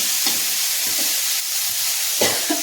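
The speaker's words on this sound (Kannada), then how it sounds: "ಒಗ್ಗರಣೆ ಹಾಕ್ತಾಯಿದ್ದೀನಿ" Spices crackling and sizzling in hot oil in a pan while tempering for a bean palya, a steady broadband hiss with a few sharper pops and stirring scrapes, close and fairly loud, no voices.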